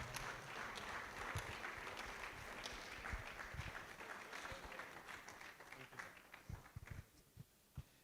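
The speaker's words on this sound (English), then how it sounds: "Can we clap for him properly, please?" Audience applause at an awards dinner night, a steady wash of many hands clapping that thins toward the end into a few scattered claps, with some murmuring voices underneath.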